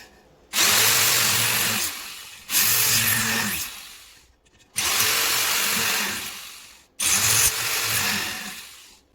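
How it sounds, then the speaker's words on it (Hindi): An electric drill bores into a percussion instrument in four loud, close bursts of roughly two seconds each, separated by short pauses. "तो अभी मेरे को ड्रिल करना है इस पर"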